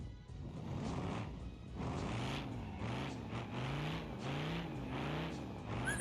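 Car driving in the BeamNG video game with the throttle stuck open, the engine droning and revving in repeated rising surges, fairly faint and steady with no talk over it.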